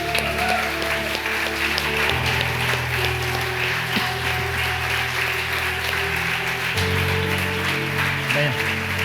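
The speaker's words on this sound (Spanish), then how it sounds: "¿Quieres darle un aplauso al nombre de Jesús?" A church congregation applauds during a Spanish-language sermon. Steady clapping runs throughout, with sustained organ or keyboard chords and some voices underneath.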